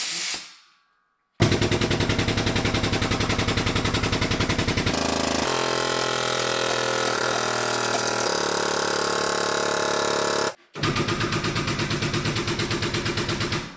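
A pneumatic air jack driven from an air hose, used on a four-post car lift: a loud, rapid, machine-gun-like pulsing chatter that pauses briefly, continues with a smoother hiss, then stops and restarts.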